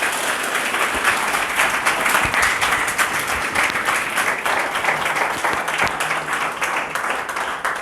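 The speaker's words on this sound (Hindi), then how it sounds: "एक बार पुनः आप जोरदार तालियां बजा के स्वागत करें" A seated audience claps to welcome the top scorer of the RPSC school lecturer history exam at a felicitation event, vigorous, sustained applause with a few sharper individual claps standing out, continuing for nearly eight seconds.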